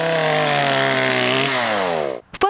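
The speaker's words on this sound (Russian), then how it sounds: "Раздается звук пилы, вырубая деревья для прокладки освещения." A chainsaw cutting down trees whines loudly at a steady pitch, shifts tone as it bites in, then stops abruptly with a couple of short bursts after.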